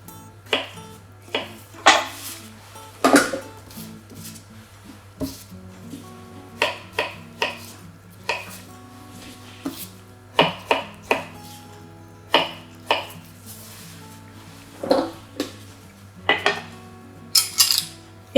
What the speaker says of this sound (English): And just coarsely chop the beetroot.